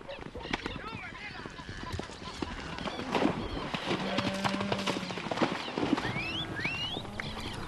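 Horse hooves clip-clop at a steady, quick pace across the Patagonian steppe, with a brief whinny partway through. A voice talks over the hoofbeats.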